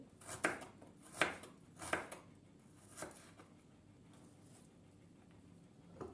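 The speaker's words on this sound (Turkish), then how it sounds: "Bu şekilde ince ince piyazlık doğruyoruz. Yarım ay şeklinde." A knife slices an onion into thin half-moon pieces on a board: four quick, crisp chops close by, then a quieter pause with one last light cut.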